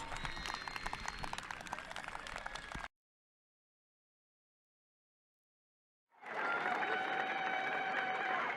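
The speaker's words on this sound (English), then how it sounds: "please join us in a round of applause for the WJH Raider Marching Band Class of 2026" A football stadium crowd applauds the high school senior marching band with dense, steady clapping. A sudden gap of total silence follows, then a second loud burst of sustained applause and crowd noise.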